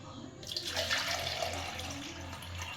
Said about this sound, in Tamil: இங்கே தண்ணியை ஊற்றணும்.